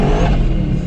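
A manual-transmission car revs loudly and steadily while its tires spin on a cold winter street, the engine roar close and continuous with no pauses.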